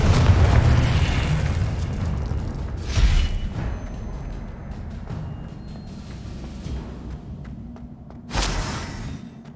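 Confringo fire spell explosions in the video game Hogwarts Legacy, a heavy rumbling boom at the start, another burst near three seconds, and a sharp blast late, over a continuous low game rumble.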